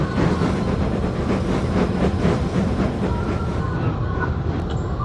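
A continuous, loud rumble of a train rolls along with rhythmic chuffing and clatter, steady throughout like a steam engine puffing away close by.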